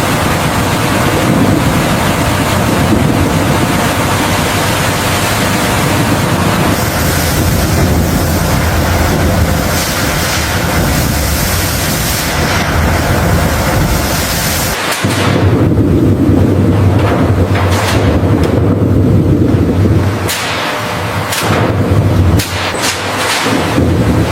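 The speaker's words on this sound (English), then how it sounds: "The potatoes are carried along the turbulent flume, where high-pressure jets begin the crucial pre-soaking and cleaning process" Turbulent water rushing through a potato chip plant flume with high-pressure jets, a loud continuous roar and spray that shifts to a lower churning rumble partway through.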